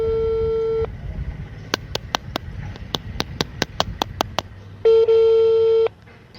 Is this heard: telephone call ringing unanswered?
yes